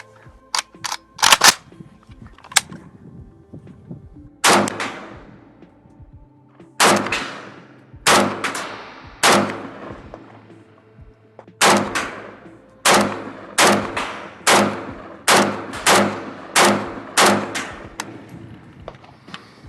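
Beryl 5.56/.223 rifle test-fired with its factory magazine, outdoors: about twenty sharp, loud gunshots in irregular single shots and quick pairs, each with a brief echoing tail, no talking.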